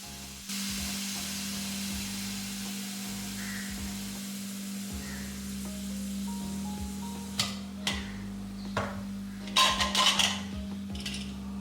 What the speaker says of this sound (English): अब कुकर का लीड खोलते हैं